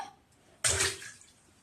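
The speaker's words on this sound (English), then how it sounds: "That was a big splash, Chelsea." Water bursts up in one loud, broad splash in an outdoor swimming pool, then trails off into softer sloshing and dripping, heard alone without talk.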